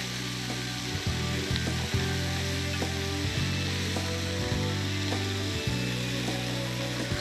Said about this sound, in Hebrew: עכשיו, תנו לזה טיגון של כמה דקות טובות.